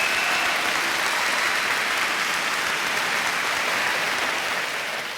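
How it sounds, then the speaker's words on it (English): A large crowd applauds in a dense, steady roar of clapping that keeps going throughout and eases off slightly near the end, with no voices over it. "Yeah, go ahead. Applaud yourself."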